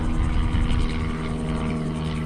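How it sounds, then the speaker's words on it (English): Sightseeing tour airplane passing overhead near the north point of Jekyll Island, a steady loud propeller drone with low rumble filling the whole stretch, no voices. "There's the tour by plane."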